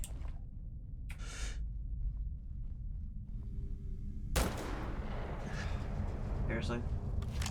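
Sniper rifle gunfire in the video game Starfield, with sharp loud shots and bursts of combat noise over a steady low rumble, mixed with player talk.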